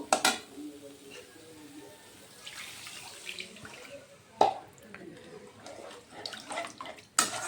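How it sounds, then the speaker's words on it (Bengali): Water is poured from a tap into a pan of sautéed spices for cauliflower dhokla. Irregular splashing and trickling come in uneven bursts, with a sharp splash midway, close and moderately loud. "কষানো হয়ে গেছে, এখন আমি জল দিয়ে দিতে পারবো।"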